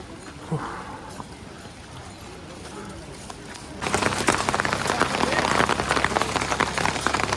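Rain on the trekking path to Kedarnath: quiet and muffled at first, then at about four seconds a loud, dense patter of rain on a surface sets in and keeps going.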